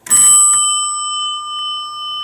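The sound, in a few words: Adams elevator bell ringing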